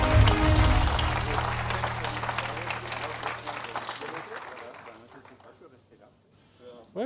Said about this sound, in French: Alors, on peut les applaudir,